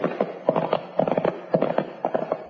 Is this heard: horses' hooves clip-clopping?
yes